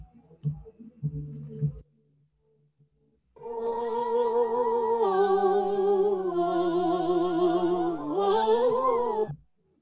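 Sampled female vocal line stacked with pitched, delayed copies of itself so it swells like a small choir, a few soft clicks before it and then the layered voices sustaining loud for several seconds in a produced beat.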